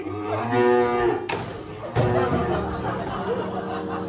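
A cow lets out two loud, drawn-out moos, close by, separated by a brief gap, with faint chuckling around them.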